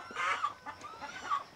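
Rhode Island Red chickens on a small farm in Cebu give soft, close clucks in a few short bursts, with no talk over them.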